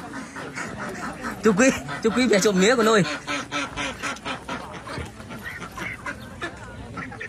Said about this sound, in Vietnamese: Đây là vịt nuôi đây